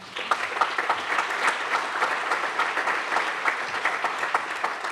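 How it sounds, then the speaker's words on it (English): Sustained audience applause fills a banquet hall at an annual CERT awards dinner, a dense, steady wash of clapping hands lasting several seconds with no voices over it. "So give yourselves a round of applause for that."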